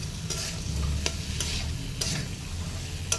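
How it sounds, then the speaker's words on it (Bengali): Tomato masala is stirred and sautéed in a pan, with soft steady sizzling under repeated sharp scrapes of a spoon against the pan, close and moderately loud. "এবার ভালো করে কষিয়ে নিই"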